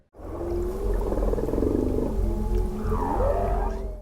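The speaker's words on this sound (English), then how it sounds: "Patrick managed to document them singing just the moment when he thought he lost track of them." Whales sing in Canadian waters, long sliding moans and rising whoops layered over a steady low underwater rumble, close and loud throughout with no voices.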